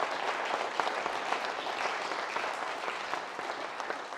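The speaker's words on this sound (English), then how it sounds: "let's also give a round of applause to our incredible panel" A conference audience applauds a panel at a health innovation pitch event, a steady, dense clapping that carries on evenly for several seconds at moderate distance with no voices over it.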